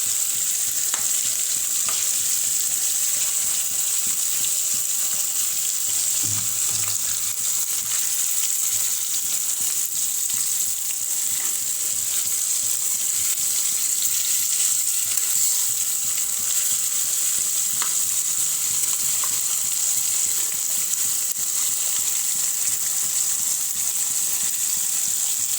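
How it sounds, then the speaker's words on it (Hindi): Fish pieces frying crispy in hot oil in a pan for a fish curry, a continuous loud sizzle with a bright hiss that stays steady throughout, with no talking. "इसे हमें अच्छे से क्रिस्पी फ्राई कर लेनी है।"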